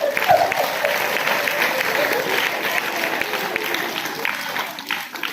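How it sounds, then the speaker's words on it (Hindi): Audience at a Hindi spiritual talk by a speaker bursts into clapping, a sustained, fairly even applause that thins slightly near the end, with faint voices mixed in. "बजाओ ताली"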